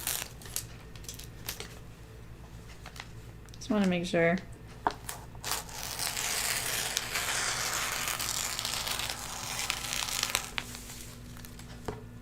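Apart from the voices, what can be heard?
cutting paper PDF sewing pattern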